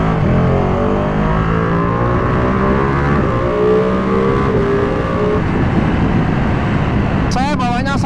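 A 2021 Ducati Panigale V2 Troy Bayliss limited-edition motorcycle accelerating hard, its engine roaring steadily with rising pitch and wind rush while the rider talks throughout.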